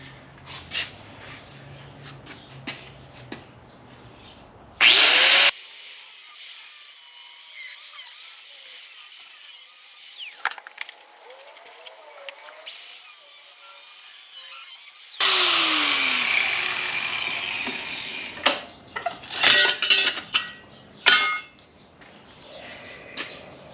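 A power tool cuts through a car's metal B pillar clamped in a vise, a loud, shrill grinding whine running steadily for about ten seconds, with lighter handling and clatter before and after.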